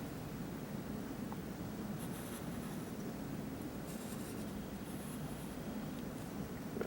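A pencil draws isometric lines on paper, a faint continuous scratching beneath a steady broadband hiss of room noise, with a few brief brighter strokes.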